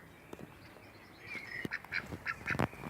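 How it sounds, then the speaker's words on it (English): Domestic ducks in a backyard enclosure with a pond let out a burst of close, rapid quacks that build over the last second and a half after a quieter start. "What are the ducks shouting at?"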